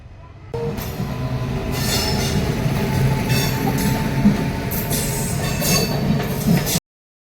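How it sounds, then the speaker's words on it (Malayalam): A train rolls slowly along the tracks, approaching from a station stop, a steady rumble with metallic squeals and clanks rising and falling for several seconds before cutting off. "ഈ സ്റ്റേഷനിൽ നിന്ന് നിർത്തിയിട്ട് പതുക്കെയാണ് ട്രെയിൻ വരുന്നത്"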